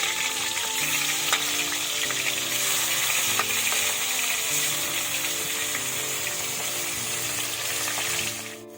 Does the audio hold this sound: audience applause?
no